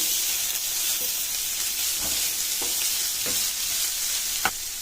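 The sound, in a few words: stirring ragi dumpling mixture cooking in pan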